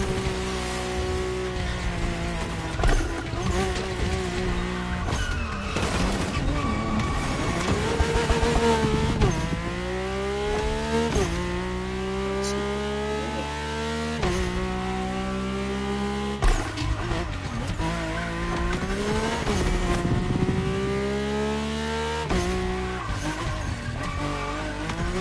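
A Mercedes-AMG One in The Crew Motorfest screams through repeated high revs and gear changes, its engine pitch sweeping up and down continuously with tire squeal, loud and close throughout.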